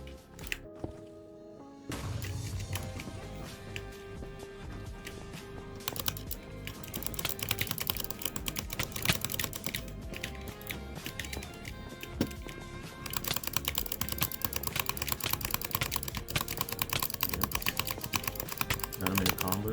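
Fast, rattling mouse clicks from butterfly clicking during a video game, a steady rapid patter of small taps running for most of the stretch, with talk mixed in at times.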